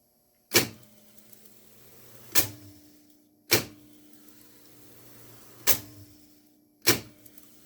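Five sharp clunks spaced a second or more apart, each with a short mechanical whir, come from a faulty Sony TC 730 reel-to-reel tape recorder playing abnormally, heard close and with no talk.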